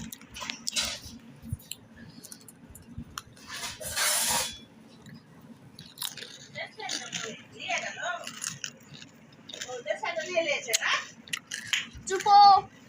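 Someone chews and bites food in quick, crunchy bursts close up, with child-like voices talking intermittently around the munching.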